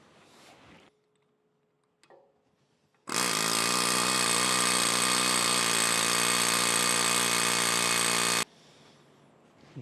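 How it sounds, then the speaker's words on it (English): A jackhammer-style power tool hammers hard against a big cane mill drive gear being pressed off, a loud continuous rattling burst of about five seconds between quieter shop sounds. "Let me put a little jackhammer pressure on there."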